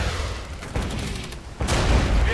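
Booming gunfire from T-72 tanks and soldiers in the video game Regiments, with heavy blasts and scattered shots, a loud burst near the end, and no talk.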